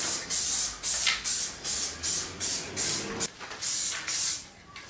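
Aerosol spray paint hissing onto a Nissan Skyline R33 GTST Type M front bar in a hot enclosed space, a steady series of repeated short bursts, each a second or so long with brief gaps, close and fairly loud.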